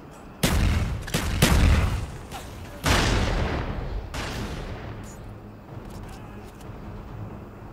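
A thrown frag grenade detonates in Call of Duty: Black Ops on the Summit map, with loud booming blasts and echoing gunfire that ring out and fade over a long decaying rumble.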